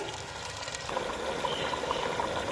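Chicken sautéing in a pot for white korma, sizzling as it browns: a steady, dense hiss and crackle that grows slightly louder partway through, close and continuous with no talking.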